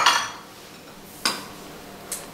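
A spoon scrapes and clinks against a pan while Philadelphia cream cheese, cayenne pepper and salt are mixed into fried green beans, a bright metallic scrape followed by two sharp taps, close up and without talk.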